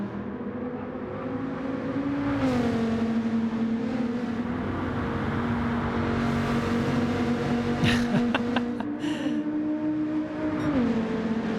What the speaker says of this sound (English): Trackhead in the High Times Dr. Pepper car going through the center S.